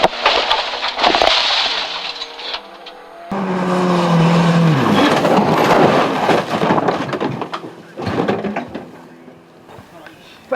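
A rally car crashes on a stage: loud engine and tire noise give way to a long grinding, rumbling impact that runs for several seconds, then a sudden lull and further scraping thuds, with voices shouting over it.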